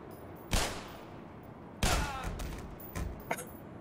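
Gunshots in the game Black Mesa, a few separate reports with reverberant tails: one shot, a louder blast with a longer echo, then a couple of softer follow-up pops, fairly distant and not very loud.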